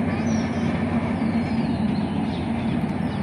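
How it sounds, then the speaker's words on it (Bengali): A train runs along a track beside a road in open countryside. Its steady, moderately loud rumble carries on throughout, with a few faint bird calls above it. "ট্রেনের শব্দ অবশ্যই শুনতে পারছেন"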